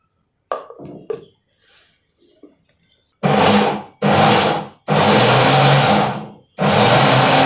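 Mixer grinder pulsed in short bursts while chopping garlic greens for a traditional chutney: a few soft clatters first, then four loud whirring runs of about one second each, separated by brief silences.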